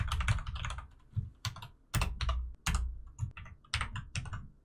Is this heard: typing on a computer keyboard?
yes